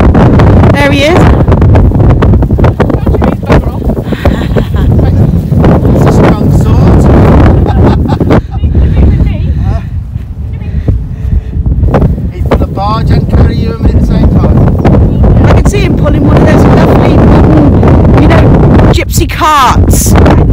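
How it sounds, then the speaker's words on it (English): Heavy wind buffets the microphone with loud, continuous rumbling gusts, while a person talks underneath. "It is very windy."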